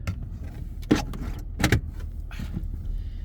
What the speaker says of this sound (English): Emergency brake.